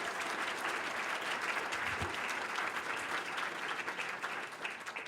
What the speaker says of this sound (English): Can you give them all a round of applause as well?